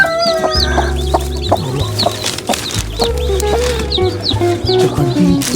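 A mother hen clucks loudly and repeatedly beside newly hatched native chicks whose thin high peeps chirp throughout, with a low steady hum underneath.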